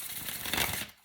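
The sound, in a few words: shuffling a deck of tarot cards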